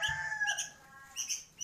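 A young sooty-headed bulbul, about a month old, gives a few short, clear chirps and whistled notes close by in a quiet setting, in two brief bursts separated by a pause.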